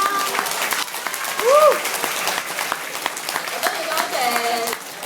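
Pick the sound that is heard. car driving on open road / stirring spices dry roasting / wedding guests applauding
wedding guests applauding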